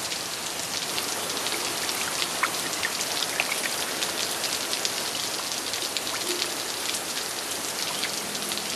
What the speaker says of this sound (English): It seems that the rains are becoming more and more violent in the Sahel.